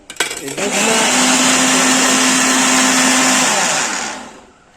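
A kitchen mixer blends mango juice, its motor starting with a click and settling into a loud, steady high whir for several seconds before winding down.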